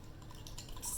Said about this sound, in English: I am going to add salt in water, stir it